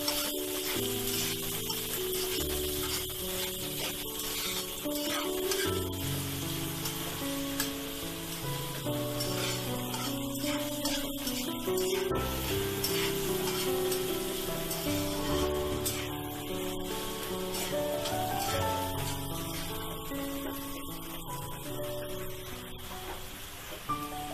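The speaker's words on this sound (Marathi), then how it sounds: "कांदा, मिरची, लसूण चांगली तेलामध्ये परतून घ्यायची" Onion, green chili and garlic sizzle and fry in hot oil for a Maharashtrian dill greens dish, a loud, continuous crackling hiss with occasional stirring scrapes running close throughout and no talking.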